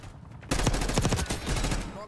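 Rapid gunfire in a multiplayer shooter game starts suddenly, a dense burst of repeated automatic shots that stays loud and continuous, with a short lull midway before more firing.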